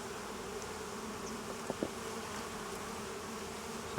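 Honeybees buzzing in an opened beehive, a faint steady drone close by with a couple of brief louder passes, no talk.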